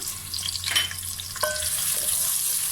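Chopped onions hit hot oil in a pan for a home-cooked aloo gobhi, giving a steady bright sizzle with a few stirring scrapes and clinks, close and continuous.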